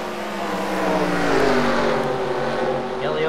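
Race cars roar around Bristol's oval in a heat race, several engines layered loud and close with rising and falling revs as they pass.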